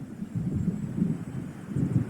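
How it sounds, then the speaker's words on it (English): Low thunder rumbles from an approaching storm in Alan Wake Remastered, a soft, uneven rolling murmur rising and falling in gentle swells at a distance, with no voices. "It seems there's a storm coming."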